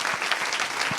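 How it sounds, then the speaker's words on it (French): A short burst of lively applause from a conference audience, steady clapping filling the moment. "une belle main d'applaudissements pour la SQP."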